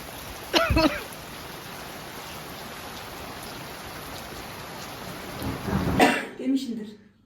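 Steady rain falls in a village on a rainy day, a constant wash of drops on surfaces heard close up, with a cough near the start and voices and movement toward the end.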